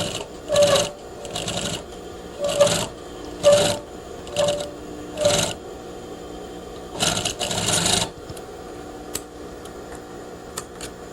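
A sewing machine stitches a curved pocket seam with a quarter-inch seam allowance in short, loud bursts, about eight stop-and-start runs with brief pauses, then it falls quiet near the end.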